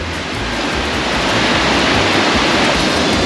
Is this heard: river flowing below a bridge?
yes